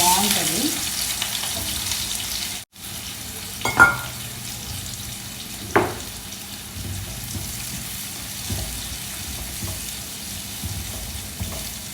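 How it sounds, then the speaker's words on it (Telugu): Onions sizzle steadily in hot oil for a brinjal biryani, a continuous close frying hiss with a brief dropout early on and a few sharp stirring clinks, no voices over it. "ఫస్ట్ అయితే ఆయిల్ వేసేసుకొని దాని మీద ఆనియన్స్ వేసేసుకోవాలి."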